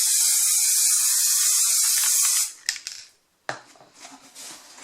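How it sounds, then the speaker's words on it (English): Spray glue hisses from an aerosol can in one steady burst lasting a couple of seconds, followed by soft handling clatter and rustling nearby, with no voices. "And we do a light spray."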